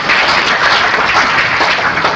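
Brief burst of audience applause at a candidate forum in Fort Lauderdale, thanking city staff; dense, even clapping fills the whole moment with no talking.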